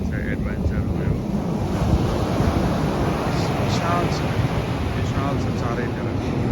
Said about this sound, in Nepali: समुद्रको छाती सबै आइरहेको छ